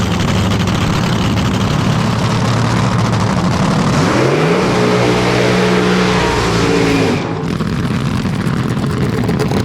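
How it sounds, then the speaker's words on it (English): A top fuel dragster at a drag strip qualifying session, its engine building from a heavy rumble into a loud, rising rev midway, then cutting off sharply near the end, heard up close over a constant roar. "First car, qualifying session number 1 in top fuel eliminator."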